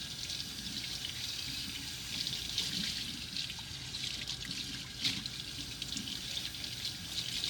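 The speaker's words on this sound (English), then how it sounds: "You're gonna rinse it with the hot water." Hot water runs steadily from a tap while dishes are rinsed in a sink, a continuous hissing splash with small clinks and shifts in the flow, heard close and alone.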